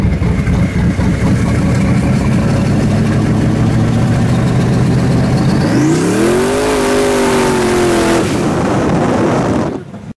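Twin turbo Chevrolet S10 truck engine with a rejetted carburetor runs loud and close, idling steadily before a rising rev at about six seconds that holds, then cuts off abruptly near the end.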